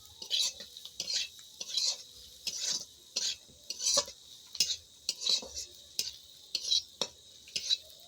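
Soybean chunks frying in a pan are stirred briskly, a rapid run of about a dozen rhythmic metal scrapes over a soft sizzle, close and clear with no talking.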